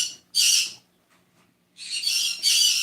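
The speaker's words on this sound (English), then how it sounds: "I have small parrots, and they have a lot to say right at the moment." Small pet parrots call indoors in loud, harsh bursts close to the listener, one squawk early and then a longer run of screeching after a short pause.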